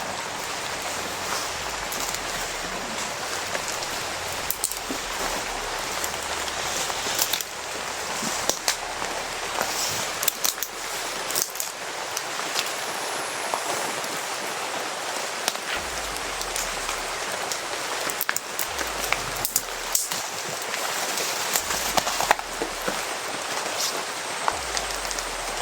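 Heavy rain pours down as a loud, dense, continuous hiss, steady throughout with occasional heavier bursts of drops and a low rumble underneath.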